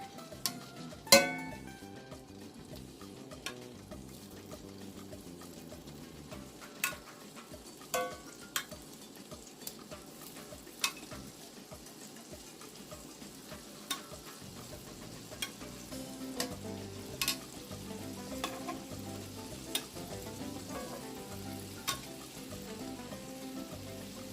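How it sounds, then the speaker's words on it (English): Shrimp fry in a pan for a Cajun chicken and shrimp Alfredo, a soft steady sizzle with scattered sharp clicks and taps of pieces being placed, quiet and close. "I'm going to just place the shrimp in."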